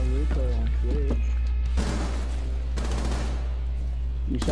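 Rapid bursts of video game gunfire crackle loudly through most of the stretch, with a chattering automatic-fire texture over a steady low hum and voices talking across it.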